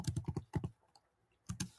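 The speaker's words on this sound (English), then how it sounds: "we're going to type this in" Quick keystrokes on a computer keyboard as a prompt is typed: a burst of close, crisp clicks, a short pause, then a few more taps, quiet and without talking.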